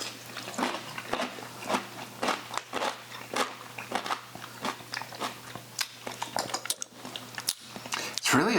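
Crisp crunches from people biting into crunchy Mount Olive pickles, a quick series of sharp close bites and chewing, with quiet talk between them.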